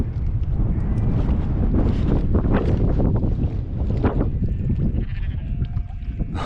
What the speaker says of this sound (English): Wow, look at all them sheep, can you see them all?